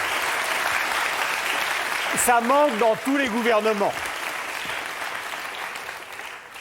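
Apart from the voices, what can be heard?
studio audience applause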